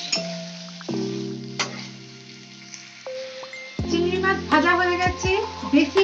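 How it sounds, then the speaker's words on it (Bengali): Prawns marinated in salt and turmeric fry in hot oil, giving a steady close crackle that swells into louder, busier spattering as they go in and are moved around. "চিংড়ি মাছ নুন হলুদ মাখিয়ে ম্যারিনেট করে রেখেছি এবার এইটাকে ভালো করে একটু ভেজে নেব"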